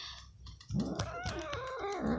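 A female cat growls in a low, rumbling snarl with rising and falling moans, close and fairly loud after a brief quiet start, with no talking.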